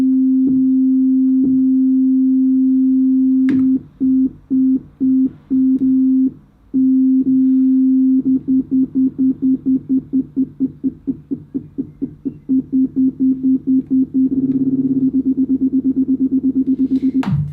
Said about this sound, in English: So I'm going to use this with the sine wave so you can hear it.